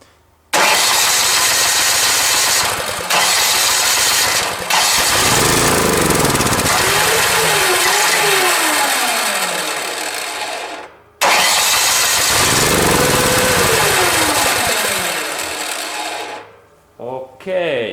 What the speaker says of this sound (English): now we can see that this engine is running well